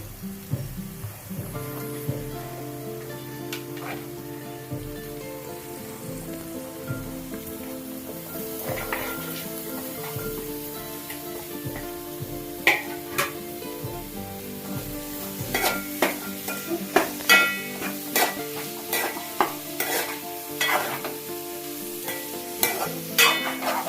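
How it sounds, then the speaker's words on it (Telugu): Boiled broad beans fry in a pan for a curry, with a soft sizzle and a scatter of scraping, clicking stirs that grow busier later, set under continuous background music. "ఇప్పుడు చిక్కుడుకాయలు ఇందులో వేసుకున్నాను."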